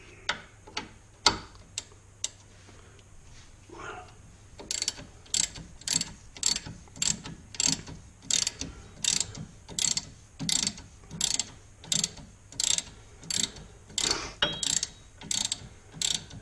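A ratchet loosens bolts on a 2013 Ford Focus during CV axle seal work: a few isolated clicks, then a fast, even run of close, crisp ratcheting bursts repeating for many strokes.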